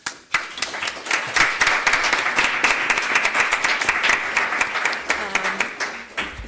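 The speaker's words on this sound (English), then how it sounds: "Please join me in a round of applause for this fantastic panel." A room audience claps together for a conference panel on EU battery regulation, a dense sustained burst of applause that starts abruptly and carries on steadily to the end with no talk over it.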